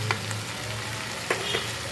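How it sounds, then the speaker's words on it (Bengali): Pointed gourd, onion and potato frying in a pan with turmeric and salt, a steady close sizzle with a couple of sharp stirring clinks over two seconds. "আমি দু থেকে তিন মিনিট পটলটা পেঁয়াজটাকে সুন্দর করে ভেজে নিই"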